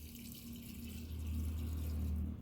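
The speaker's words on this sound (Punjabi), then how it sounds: "ਹੁਣ ਆਪਾਂ ਇਹਦੇ ਵਿੱਚ ਪਾਵਾਂਗੇ ਜੀ ਪਾਣੀ" Water is poured into a container of sugar for homemade amla wine. A quiet, steady trickling flow runs for a couple of seconds and grows slightly fuller toward the end.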